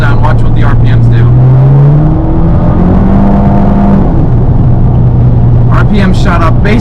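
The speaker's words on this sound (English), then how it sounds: "As soon as I press this throttle down, watch what the RPMs do." Car at cruising speed in fifth gear with the throttle suddenly pressed: a loud engine tone that rises and then holds high as revs climb toward red line, under steady road roar, with a person talking at the start and end.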